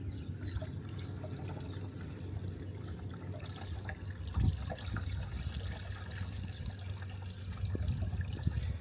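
A whole jug of liquid product glugs and trickles into the tank of a DJI T50 spray drone on a farm, a faint steady pour over a low background hum.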